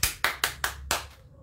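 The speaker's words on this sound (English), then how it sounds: "And a big clap for Jesus." A church congregation gives a short round of clapping, about five loud, evenly spaced bursts that fade out quickly.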